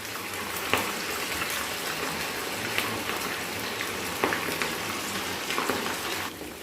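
Prawns deep frying in hot oil for Manchuri, a steady dense crackle and hiss with scattered louder pops, close and continuous throughout with no voices.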